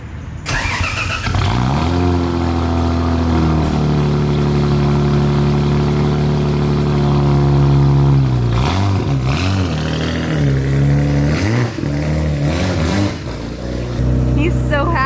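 The 1JZ engine of a Lexus SC300 cranks and catches, then idles with a smooth hum, rising into several revs before settling again. Loud and close, with a person speaking at points.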